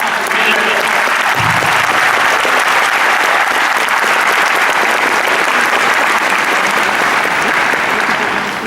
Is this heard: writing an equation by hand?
no